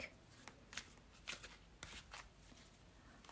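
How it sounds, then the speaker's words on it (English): Quiet, crisp riffling of a card deck being shuffled, several quick ruffling bursts close by with no voices. "Shuffle with intention with our last deck."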